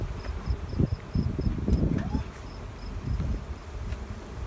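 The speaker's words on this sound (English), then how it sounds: "The bees are actively robbing the empty boxes." Honeybees buzz and hum close by around stacked empty hive boxes they are robbing during a nectar dearth, a busy swarm drone over rustling and soft knocks, with a faint steady whine above.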